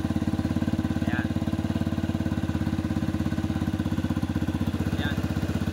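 A Rusi 150 motorcycle engine, just repaired, runs close by with an even, rhythmic low throb and no ticking. The sound stays constant throughout, with a couple of faint high chirps in the background.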